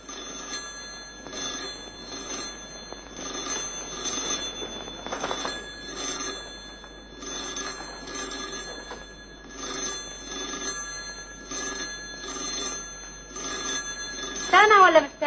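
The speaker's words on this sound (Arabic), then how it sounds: "التليفون يا اطرش." A telephone rings again and again in a 1953 Egyptian film scene, its bell bursts repeating steadily under voices talking over it, ending in a louder rising cry.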